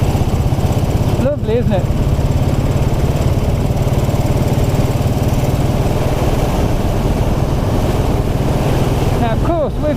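1929 'Black' Ariel motorcycle engine running steadily on a ride along country lanes, a loud close rapid thump mixed with wind buffeting, while a rider briefly speaks.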